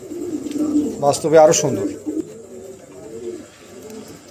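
Lahori pigeons give soft cooing calls, clustered mostly in the first two seconds and then trailing off, close by and moderately loud. Someone talks over them.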